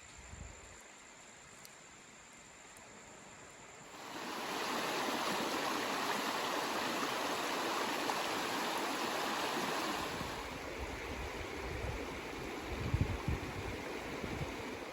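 Steady broadband rush of a flowing river on a Georgia–North Carolina trail, which swells louder after a few seconds and continues without pause, close and fairly loud.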